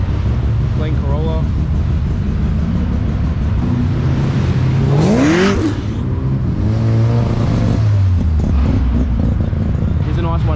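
A Nissan 180 revs hard as it leaves a busy car meet, a loud close engine note that climbs and falls, with crowd chatter and voices underneath throughout.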